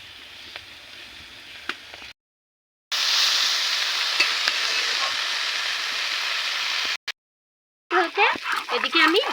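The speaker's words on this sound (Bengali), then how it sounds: "পেঁয়াজ কুচি ও লঙ্কা কুচিগুলো দিয়ে দিচ্ছি।" Onion and chilli sizzle loudly in a pan with dried fish, a steady hiss that starts after a brief silence and cuts out suddenly, with faint clinks before it and a voice speaking at the end.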